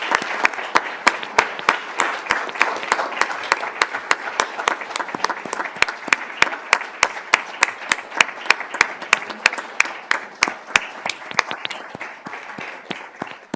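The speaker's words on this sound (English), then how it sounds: "If we could give Mr. Gay a round of applause." A seated meeting audience gives a retiring staff member a sustained round of applause, dense overlapping claps at moderate distance that hold steady for over ten seconds before thinning out slightly at the end.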